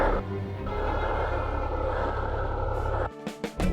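A motorcycle rolls down a steep, rough driveway at a cabin on a Quebec motorcycle tour, its engine a steady, close drone that cuts off near the end, leaving a few brief knocks and clatters.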